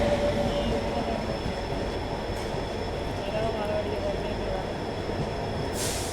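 Railway wagons rumble past near Alwar in a steady, loud, continuous roar that lasts the whole stretch, heard from inside a general coach of the Rajasthan Sampark Kranti Express.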